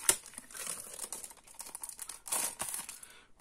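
Packaging of Paris-themed stickers being torn open, a few seconds of crinkling plastic with sharp crackles at the start and again midway, close and fairly quiet, no talking.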